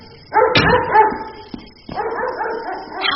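A dog left home alone barks and yips in two bursts of excited, whimpering calls, loud and close, separated by a brief pause.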